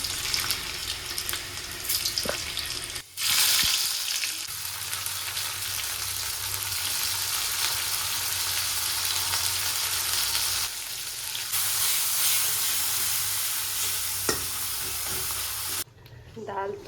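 Dal tadka sputtering and sizzling in a hot pan at midday in a home kitchen, a steady close frying hiss with brief stirring scrapes and a few sharp crackles.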